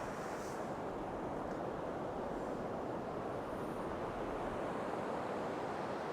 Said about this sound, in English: I'm pretty sure that's waves